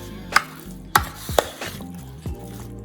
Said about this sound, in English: I'm gonna give them a good stir and try to get it spread out among all of them